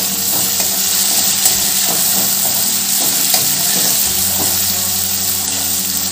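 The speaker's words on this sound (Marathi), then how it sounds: "पुरण व बटाटा आपण तेलात छान परतून घेऊ" Puran (cooked lentil filling) and potato frying in oil in a pan, a steady loud sizzle with scraping stirs and clatter throughout, no talking.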